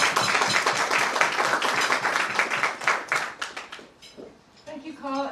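Audience applause at a breakfast talk event, dense clapping from a crowd filling the room for about four seconds before fading out, with a voice starting up at the end.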